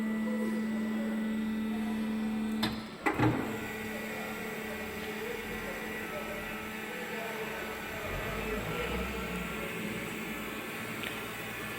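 A PEMA APS 750 welding positioner runs through its function test with a steady mechanical hum and whir, a tonal drone cutting out after a couple of seconds with a short clunk, then continuing broadband machine noise.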